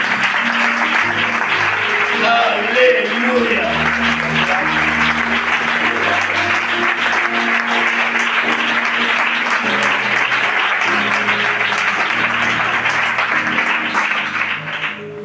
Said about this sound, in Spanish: El mejor aplauso que tengas para mí.